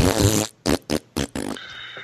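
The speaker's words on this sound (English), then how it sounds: "lot of farting on this episode" A series of loud, close farts: one long blast, then several short bursts with gaps between them, ending in a thinner, drawn-out squeak, with no talking over them.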